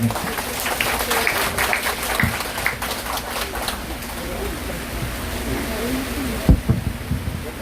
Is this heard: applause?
yes